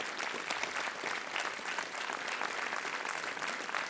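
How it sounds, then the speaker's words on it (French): A concert audience claps for two sisters, one on drums and one on piano, dense, even applause from many hands that continues without a break at moderate volume. "On les applaudit"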